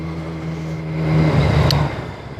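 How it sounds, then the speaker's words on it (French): A Ducati Hypermotard motorcycle passes nearby, its engine hum swelling to a peak midway and fading again over a steady background rumble, with no talking. "Oh, Ducati Hyper Motard."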